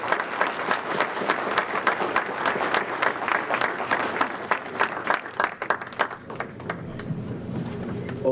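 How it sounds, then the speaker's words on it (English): Sustained applause from a large breakfast crowd at an MLK event, steady clapping with scattered louder claps, fading slightly toward the end as a departing speaker leaves. "Give him another round of applause as he leaves."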